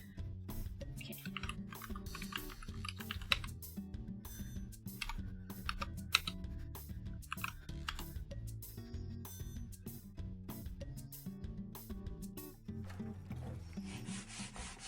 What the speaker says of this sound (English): this new keyboard sounds so good